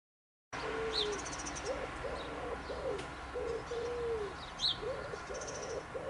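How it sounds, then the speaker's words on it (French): Birds call outdoors on a sunny path, with repeated low dove-like coos and scattered high chirps over a steady open-air background, no talking. "on entend les oiseaux qui chantent, c'est bon."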